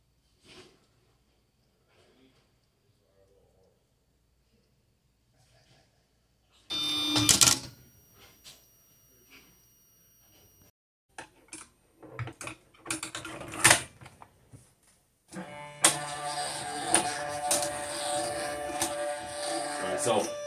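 Videojet 107mm printer running a calibration, mostly quiet at first, then bursts of clicking and mechanical clatter, ending in a louder sustained whirring feed of the ribbon and print mechanism.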